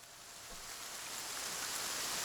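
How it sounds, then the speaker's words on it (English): A rain sample triggered on a Roland SP-404 sampler gives a steady, close wash of hiss that swells slightly louder over a couple of seconds, with no voices. "So I'll start with some rain sound here."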